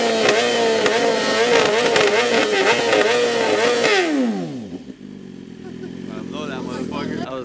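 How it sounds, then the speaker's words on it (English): A Nissan Skyline R34 engine revs hard and loud up close, holding a high, strained pitch for about four seconds before the revs drop off sharply and settle into a quieter idle. "Bro almost blew his engine."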